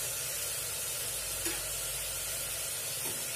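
Mutton pieces frying in hot oil for a home-style mutton gravy, giving a steady, close, continuous sizzle with faint crackles and no talking.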